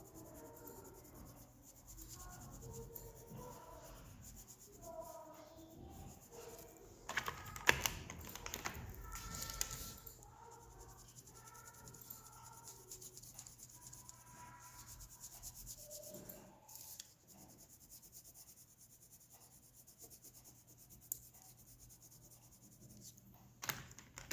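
Crayons rub across paper while letters are being coloured in, a quiet, steady scratchy scrubbing with some short bursts of heavier strokes, alongside faint intermittent tonal background sounds.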